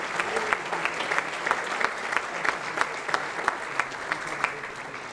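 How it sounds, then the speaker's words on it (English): An audience at a chamber of commerce annual dinner claps steadily for several seconds, with sharper individual claps standing out above the even, moderately loud applause. "I just want to give a round of applause and thank them"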